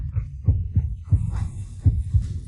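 Rapid heartbeat sound effect, deep thumping pulses in quick pairs pounding steadily over a low hum, close and prominent with no talking.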